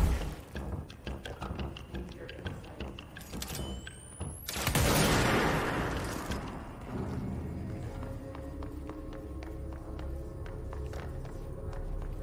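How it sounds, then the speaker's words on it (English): A burst of loud blasts and crackling debris in the video game Control erupts midway through busy game-like clatter and rumbling, then settles into a steady low drone. "Explosions."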